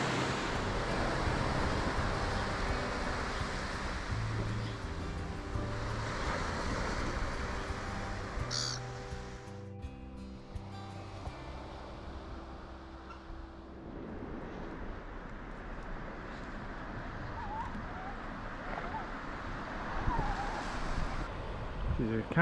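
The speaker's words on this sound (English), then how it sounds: "It's a calm day in Port Campbell today. Slight breeze. Not huge surf, nothing." Calm ocean surf washes steadily along the coast at Port Campbell on the Great Ocean Road, with a slight breeze and a brief crow call; the wash is continuous and moderate, with no voices.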